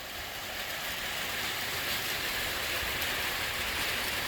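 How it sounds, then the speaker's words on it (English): Steady, even hiss of heavy rain falling outside a Mitsubishi Rosa bus being converted, a continuous broadband downpour with no distinct thunderclap standing out. "it's raining again. As you can hear, thunder."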